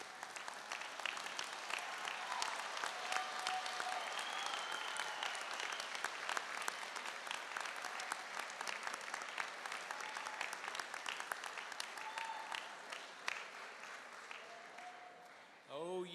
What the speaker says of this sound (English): we'll be behind you and help you applaud for them